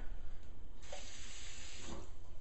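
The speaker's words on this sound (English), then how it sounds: "I'll put a little bit of water in here." Tap water runs into a shaker bottle in a close, steady gush that rises in pitch and fullness midway as the bottle fills, with no talking.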